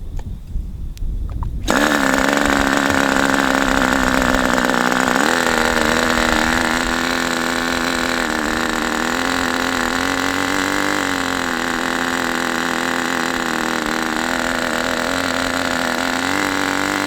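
A Raduga 10RU model engine runs steadily at mid-throttle on a rich setting, a loud, close, high-pitched buzzing drone that starts abruptly after a short quiet stretch and then holds fairly even with slight wavering.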